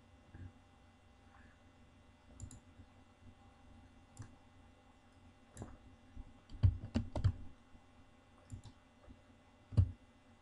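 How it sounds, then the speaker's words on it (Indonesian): Scattered keystrokes on a computer keyboard during coding in Microsoft Visual Studio 2010, quiet, close clicks in irregular bursts with a cluster of sharper taps in the middle, over a faint low hum. "Jadi ketik di sini"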